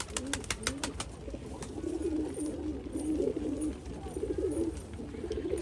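Pigeons in a loft cooing in low, rolling repeated phrases while waiting to be fed, close and steady, with a few brief clicks near the start and no talk.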